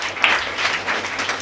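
A short burst of dense applause from a crowd, steady clapping lasting just over a second.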